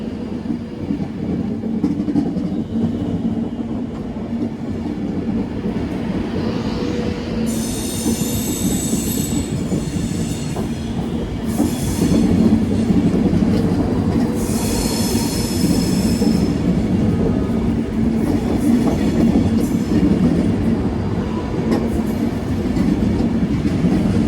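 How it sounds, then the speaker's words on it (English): An Avanti train bound for London Euston from Glasgow Central passes close by, a steady loud rumble of rolling wheels with high metallic squeals rising at intervals. "here comes the Avanti that's going to go to London Euston"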